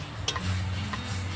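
Mashed potato with spices stirred in a pan, a soft scraping stir with a couple of light clicks over a low steady background hum.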